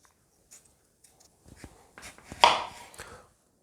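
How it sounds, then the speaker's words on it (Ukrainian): Vegetables such as carrot and onion are peeled by hand for pumpkin soup, giving a series of short, close scraping and scratching strokes, sparse at first, then denser, with one louder rasp near the middle, in a quiet kitchen. "Для початку очищуємо наші овочі."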